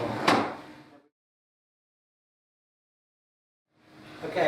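A wooden drawer is shoved firmly into a piece of furniture so it locks in place. Two short, close bumping slides are separated by a second of silence.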